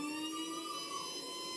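A brushed motor run by a homemade speed controller spins with a faint, thin, steady whine that sweeps gently in pitch, over a quiet background.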